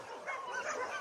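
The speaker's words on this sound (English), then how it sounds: "the new doggy Alfie" A dog at an animal shelter gives a brief whining bark-whimper, close and fairly loud, in a short single burst.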